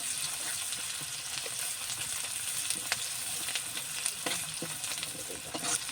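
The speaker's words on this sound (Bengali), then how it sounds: "এখন পেঁয়াজগুলো লাল লাল করে ভেজে নেব।" Onions frying in leftover fish oil toward reddish brown, a soft, continuous sizzle and crackle close by, dotted with small sharp pops and light stirring scrapes, no voices.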